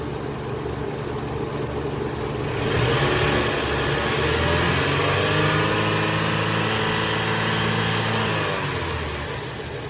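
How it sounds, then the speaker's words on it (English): A car engine, suspected of a valve or valve-spring fault, idles steadily, then revs up and holds at higher speed before easing back, loud and close with no talk. "So here we go, we're going to rev the engine up."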